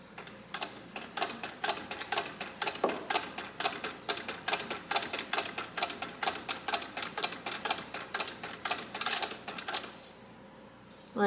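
A 1910 Singer 66 sewing machine, newly reassembled, stitching with a fast, even mechanical clatter of needle strokes, close and steady for about ten seconds before stopping.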